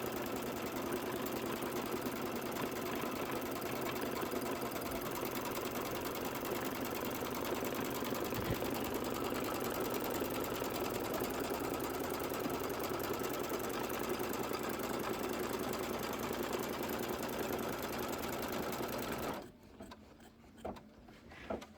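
A sewing machine stitches a quilt in a steady, continuous whir for about twenty seconds, then stops abruptly, leaving faint handling clicks.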